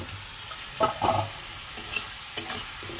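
Egg and potato frying in a spiced paste of green chilli, garlic, ginger and garam masala give a soft, steady sizzle, and a few brisk stirring scrapes stand out over it, close by with no talking.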